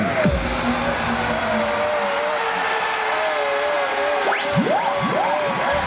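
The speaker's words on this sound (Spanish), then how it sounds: "Arrancamos motores." Car engine revving sound effect played at a live reggaeton orchestra concert in Milladoiro, Galicia, with loud rising and falling engine whines layered over a dense crowd-and-music wash.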